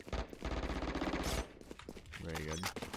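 Rapid bursts of gunfire from a Stinger submachine gun in a video game, loud and close, firing in quick volleys before breaking off; a voice speaks over the last second.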